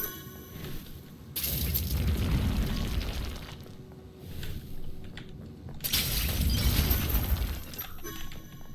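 Video game explosions from Mages of Mystralia sound as two heavy booming bursts with shattering crackle, each rumbling for a few seconds over the game's ambient sound.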